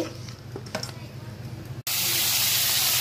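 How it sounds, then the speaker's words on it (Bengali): Fish frying in a pan on a gas stove, dinner being cooked in a home kitchen: a quieter stretch with kitchen clatter, then a loud, steady broadband sizzle from about the two-second mark onward. "মাছটা এখন ভাজা হচ্ছে"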